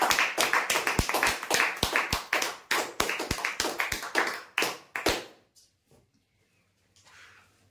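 An audience claps for prize draw winners at a kitchen basket giveaway, with dense bursts of applause for about five seconds that then abruptly die away into near silence.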